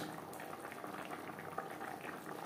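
A vegetable curry with fried bata fish added bubbles and simmers steadily in the pan, a soft continuous boiling sound with no talk.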